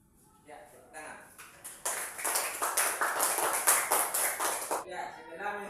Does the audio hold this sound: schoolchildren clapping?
yes